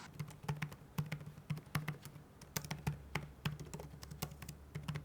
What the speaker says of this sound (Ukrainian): Натискаються клавіші в міру туго, приємно і є українське гравіювання, яке, до речі, просвічується.